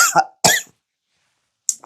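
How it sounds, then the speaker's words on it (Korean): Two sharp coughs close together, then a pause of silence before a brief third burst starts. "오늘 왜 이렇게 기침하는지,"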